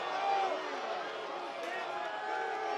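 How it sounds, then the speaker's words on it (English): Crowd murmur at a Walnut Creek Crawdads baseball game, a faint, steady wash of many distant voices with no distinct cheers standing out. "You can hear the crowd."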